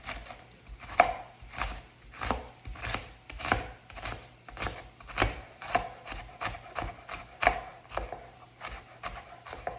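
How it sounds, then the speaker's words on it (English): An onion is diced with a knife on a cutting board: a steady, rhythmic run of quick, crisp chops in regular bursts, close and fairly quiet, with no speech. "So we're dicing our onion."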